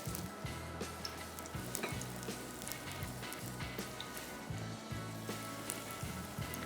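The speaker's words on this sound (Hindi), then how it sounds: "और इसके बाद कर दिया फ्राई" Egg-coated shami kebabs frying in hot oil, a low, even sizzle and crackle with tiny pops, quiet and close, steady throughout.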